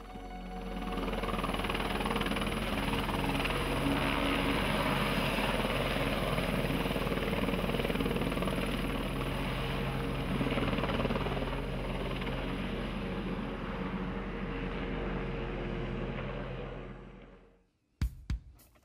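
Steady, loud whine and thrum of an Écureuil helicopter in flight, heard from inside the cabin as a continuous drone with rotor pulsing, with no voices, ending in sudden near-silence broken by a couple of brief knocks.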